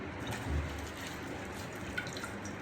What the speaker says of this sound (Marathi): 3 पाण्याने चांगली भाजी धुवून घ्यायची